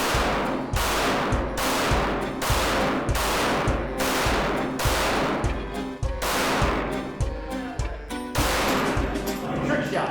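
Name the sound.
gunshots from a Glock G19x pistol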